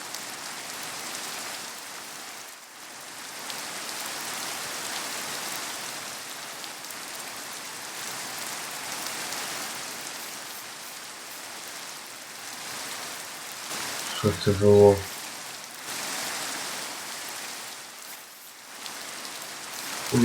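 Steady rain falling outdoors among trees, a continuous broadband hiss with a brief louder patter burst near the middle; a few words are spoken faintly.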